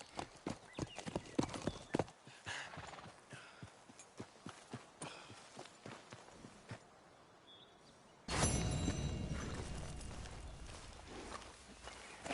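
Horse hooves clip-clop at a walking pace in the Red Dead video game, steady and fairly close. Near the end a louder rushing noise of rising speed or wind swells in and covers the hooves.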